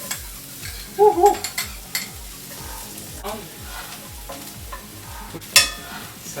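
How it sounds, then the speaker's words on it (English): Garlic sizzles and fries in a preheated pan for adobong tahong (Filipino mussels), with a steady crackle under occasional stirring scrapes, plus a brief voiced exclamation near the start and a sharper sizzle burst later. "So, we are gonna put the garlic, preheat already."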